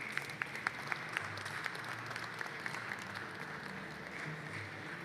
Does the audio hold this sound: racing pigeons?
no